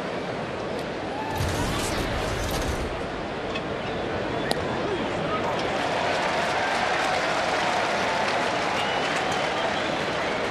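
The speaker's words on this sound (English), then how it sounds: "Kind of a Bronx cheer of an applause from the fans here." Fans in a baseball stadium at an Atlanta at Cincinnati game give a sustained, sarcastic round of applause, a broad clapping roar from the big crowd that swells early and then holds steady.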